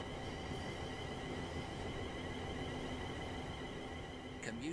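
A Class 350/1 Desiro electric multiple unit from Train Sim World rolls along the West Coast Main Line out of London Euston, giving a steady, loud rumbling hum with a faint rising whine and a brief squeal at the end.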